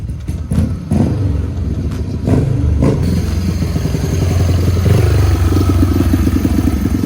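A speedway motorcycle engine with a freshly worked-on carburettor runs loudly and close by, a rapid pulsing chug with a few clattering knocks at the start before settling into a steady, throbbing idle.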